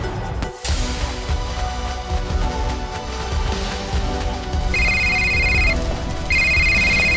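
An electronic phone ringtone sounds in an animated Hindi night-time story scene by a cave: two clear bursts of ringing over a steady bed of background music and rain-like ambience.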